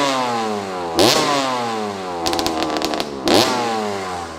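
A 1987 Honda CR80R two-stroke dirt bike engine revs hard and rips through rising gears, with loud close ringing blats, brief clattering shifts, and a steady climbing whine between them, no talk.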